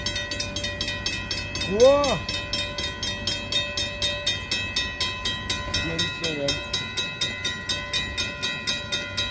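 A CN freight train hauling Norfolk Southern locomotives rolls past at St-Henri, Montreal in December, with steady rhythmic clickety-clack of wheels over rail joints and brief squealing tones, while people speak French nearby.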